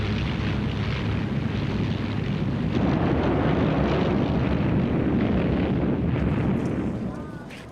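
Luftwaffe aircraft attacking Malta during the Second World War in archival footage: a loud, continuous roar of engines and blasts that swells midway and fades at the end.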